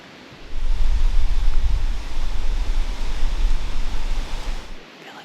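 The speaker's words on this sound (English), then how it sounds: "the wind's blowing super hard." Strong wind roars steadily against the microphone, a loud low rumble with gusty swells that starts abruptly and cuts off near the end.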